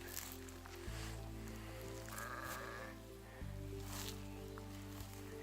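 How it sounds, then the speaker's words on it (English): Sheep bleat repeatedly in a steady, droning chorus, several animals calling close by with long sustained tones that overlap. "Sneak through all the sheep."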